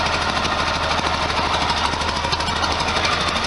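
A 1973 VW Super Beetle air-cooled engine idles close by after a timing adjustment, a steady, rapid mechanical chatter with an even, continuous loudness and no speech.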